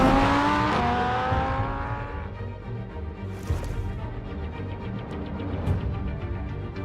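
The Batmobile driving in Batman The Telltale Series, an engine revving high and then settling into a lower roar as it speeds along, loud and close with brief whooshes of passing traffic.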